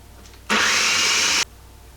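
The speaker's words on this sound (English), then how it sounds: "start shredding them in your food processor" A food processor shreds zucchini in a single loud, steady whirring burst of about one second, starting and stopping abruptly.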